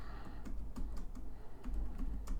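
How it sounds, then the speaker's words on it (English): Close, quiet tapping on a computer keyboard, an irregular run of individual keystrokes over a low background hum. "Hear me typing."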